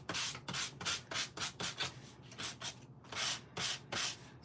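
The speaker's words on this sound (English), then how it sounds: "So I just have my little nail file sander" A small nail file sander works over creased cardstock, giving a steady series of quick, scratchy rasping strokes in close, regular bursts with nothing else heard.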